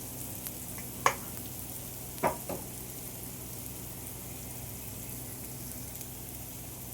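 Food shallow-frying in oil in a pan, one side browning, gives a faint, steady sizzle with a few soft crackles and pops. No one speaks over it.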